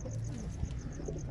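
Desi fancy pigeons coo softly in a low, steady murmur that runs throughout, with no talking.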